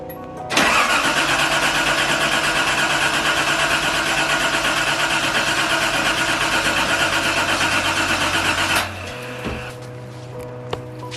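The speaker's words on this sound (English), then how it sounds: "I'm gonna give it a shot, see if it turns over." A Nissan 280ZX engine cranks steadily for about eight seconds without catching, a loud continuous starter-motor churn close by, then it stops and the car falls quiet.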